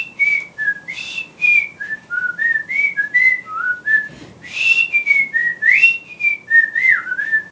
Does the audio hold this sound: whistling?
yes